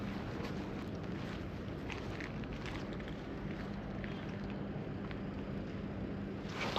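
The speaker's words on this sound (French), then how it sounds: "J'entends un bruit de moteur." A faint, distant engine drones as a steady low rumble across an abandoned factory, with no talking.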